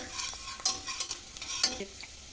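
Softened onions and added garlic sautéing in a pan, giving a brief stretch of close sizzling with quick spoon scrapes and taps as they are stirred.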